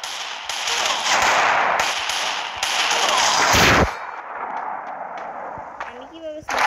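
Desert Eagle pistol fire in a shooting video game: a run of sharp, loud bursts crowding the first few seconds, then quieter game ambience and a brief voice near the end.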